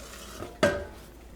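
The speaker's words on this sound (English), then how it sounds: "Just the most important thing is just to keep stirring." Homemade English toffee stirred in a pot, a single sharp scrape of a utensil against the pan over a faint background bubbling, brief and close, with no talk.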